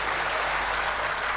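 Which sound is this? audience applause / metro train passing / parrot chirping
audience applause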